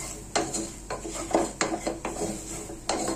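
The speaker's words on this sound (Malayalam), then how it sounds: "എന്നിട്ട് അതും കൂടെ ചേർത്തിട്ട് നല്ലപോലെ ഇളക്കി അങ്ങോട്ട് കൊടുക്കാം" Roasted garam masala and spices stirred in a pan for beef curry: a spoon scrapes and knocks against the metal in irregular, fairly loud strokes close by, with no talk.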